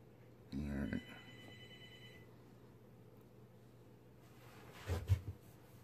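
A desk telephone rings in a room where someone is modifying a Celestron CG-2/CG-3 mount's RA motor, with one short ring near the start and a second burst near the end, both fairly faint against a steady electrical hum.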